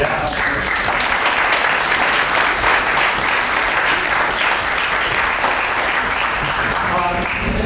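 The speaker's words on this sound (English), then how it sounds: "I think they deserve a round of applause" Town meeting attendees clap together in a sustained, dense round of applause, loud and uniform throughout with no pause, filling the hall without talk.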